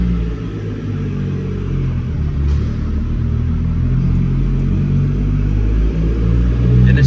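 Toyota JZX100 fitted with a Tomei titanium exhaust holding a high idle, a deep steady droning rumble, loud and close and unbroken, with no talk over it.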